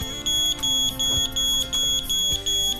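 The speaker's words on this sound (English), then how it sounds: "the W-Alert will sound an alarm to deter the intruder" A W-Alert intrusion alarm sounds loud and close, with steady electronic beeps pulsing in an even on-off rhythm of about two per second.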